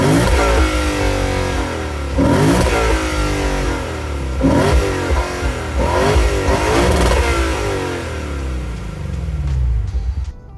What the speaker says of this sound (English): And it has that real meaty exhaust note,